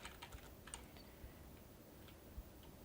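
Faint, sparse taps of computer keyboard keys, a few light clicks scattered over a steady background hiss, quiet and close.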